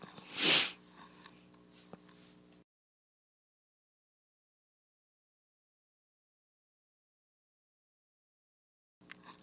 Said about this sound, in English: Sorry, I had to blow my nose real quick.